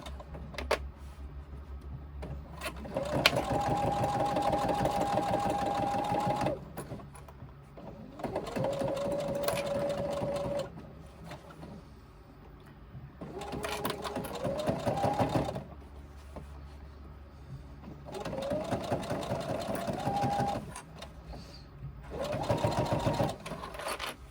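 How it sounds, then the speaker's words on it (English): A sewing machine stitches along the seam line of a crossbody bag in five steady, evenly spaced bursts of motor whir, with short pauses between them. "I'm stitching on the seam line that I stitched before."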